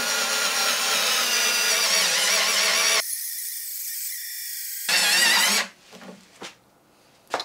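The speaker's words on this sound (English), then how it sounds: "Let's drill some bigger holes. Let's try 1/4 inch." A power drill whines loudly and steadily for several seconds while drilling quarter-inch holes, drops pitch briefly, surges again, then stops, followed by a few clattering knocks.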